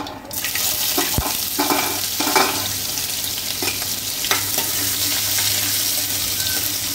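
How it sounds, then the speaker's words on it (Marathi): Onion frying in oil with mustard seeds and cumin for a spicy kat vada gravy gives a steady, close, broadband sizzle, with occasional scrapes and clinks from stirring and no talk. "कांदा फ्राय होत आला आहे"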